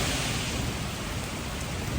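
Dense, steady rain pours down in Brienz, Switzerland as a continuous hiss, loud and unbroken throughout.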